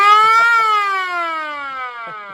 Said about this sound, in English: That's an old siren.